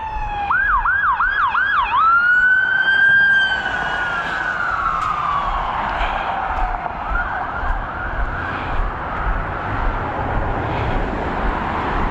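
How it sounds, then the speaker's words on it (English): A car's wailing siren yelps rapidly, then sweeps in long rising and falling tones as it passes by and fades, over steady traffic rumble on a street in Maine. "that car going by with the sirens"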